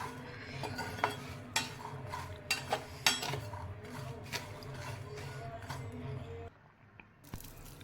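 Peanuts roast in a pan over a low gas flame, with irregular scraping and rattling clicks from stirring and a faint steady background hiss. The sound grows quieter near the end.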